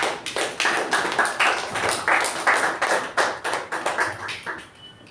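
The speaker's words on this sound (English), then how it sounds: "a big round of applause for Toastmaster Shiva" Audience at a Toastmasters club meeting claps for several seconds, dense and fairly close, in uneven surges that taper off toward the end; no one speaks over it.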